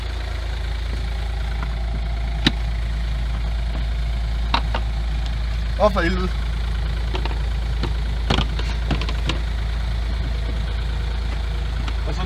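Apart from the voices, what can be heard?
Smart fortwo 0.8 CDI diesel engine running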